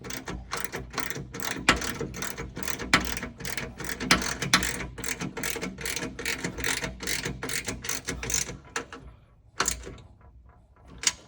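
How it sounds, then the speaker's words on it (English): A ratchet tightens a carriage bolt on an L bracket of a drawer system in an Ineos Grenadier, giving rapid, close, rhythmic clicking in bursts that slow and thin out toward the end. "then I'll go tight with the carriage bolt right here"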